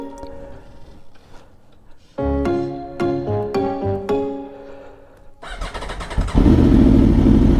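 A motorcycle engine cranks with a few rapid starter pulses, then catches and settles into a loud, close, rumbling idle.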